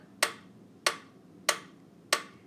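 Four crisp, evenly spaced claps land in a steady beat during a grade two music lesson, each one sharp and close, with quiet between them.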